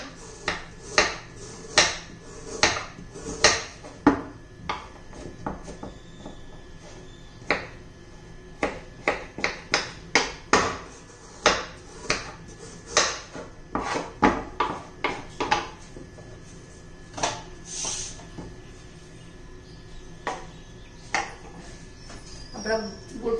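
Knife blade striking a cutting board again and again as a block of jaggery is chopped into small pieces, sharp close taps in uneven bursts with brief pauses between them.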